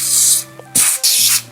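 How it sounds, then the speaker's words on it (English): Super Stay 2-in-1 lace spray hisses from the can onto a wig in three short close bursts, the first longest, separated by brief gaps with a faint background hum. "I'm just gonna spray a little bit right here because I don't want my wig to slide"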